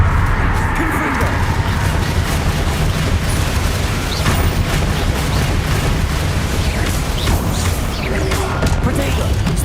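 Confringo blasting spells go off in Hogwarts Legacy with a dense run of booming explosions and crashing debris, loud and continuous, with mechanical clatter underneath.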